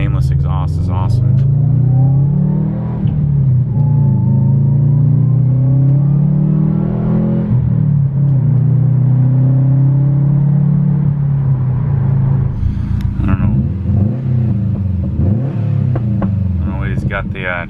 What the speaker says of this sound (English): Nameless exhaust is awesome.